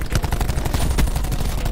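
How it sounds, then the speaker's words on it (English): Rapid automatic fire from the Maddox rifle in Black Ops 4 rattles out as a loud, dense burst of sharp shots in quick succession lasting under two seconds. "Today we're doing the no recoil gun,"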